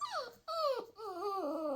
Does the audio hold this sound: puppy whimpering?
yes